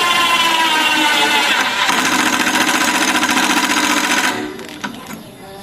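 Dongcheng (DC) cordless impact driver running at its lowest speed setting, level 1, giving a steady loud whirring buzz with rapid hammering for about four seconds, then stopping abruptly and fading into quieter room noise.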